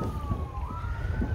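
A police car siren wails at a distance outside during 4th of July fireworks, a steady rising tone drifting slightly in pitch over a rumbling, noisy background.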